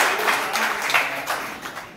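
Audience clapping at a Congress committee meeting held at an MLA's office in Dholpur, a steady spatter of hand claps from a crowded room lasting the full moment, fairly loud with faint murmur beneath.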